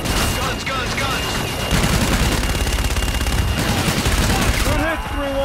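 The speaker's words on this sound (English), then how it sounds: "Inbound for gun run. Guns, guns, guns!" Aircraft gun run strafing in Call of Duty: Infinite Warfare, a loud continuous roar of rapid gunfire and impacts mixed with battle noise, with voices audible under the barrage.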